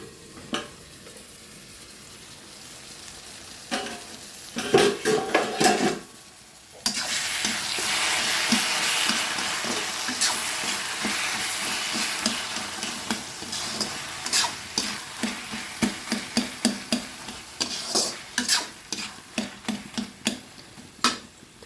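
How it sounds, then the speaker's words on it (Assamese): Assamese vegetables for pani lau sizzle in a pan while a spatula stirs them in quick, rhythmic scraping strokes, with a brief lull near the start and a dense run of taps toward the end. "এইখিনি ভালদৰে লৰাই দিম আৰু সিজিবৰ কাৰণে ঢাকন দি থৈ দিম 5 মিনিটৰ কাৰণে"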